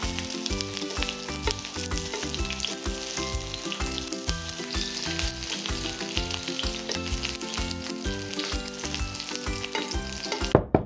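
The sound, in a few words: sausage and rice cake skewers pan-frying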